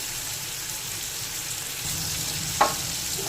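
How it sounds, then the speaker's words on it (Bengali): Steady oil sizzle of prawns frying in a pan, a constant crackling hiss, with a brief clack of a utensil near the end. "চিংড়ি মাছগুলো ভালো করে ভাজা হয়ে গেছে"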